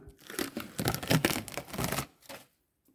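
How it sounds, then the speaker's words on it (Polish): Protective plastic film is peeled off a flat steel sheet, a close, crackly tearing and crinkling lasting about two seconds in uneven bursts, then fading to silence. "O, folię może zdejmę."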